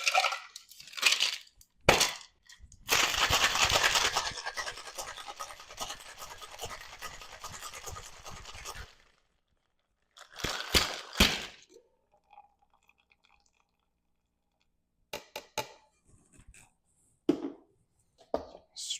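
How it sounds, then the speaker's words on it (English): A rum and lime coffee cocktail shaken with ice in a shaker gives a sustained rattling burst of several seconds, then shorter shakes and scattered clinks with quiet gaps between. "I'll throw in the ice and we'll shake."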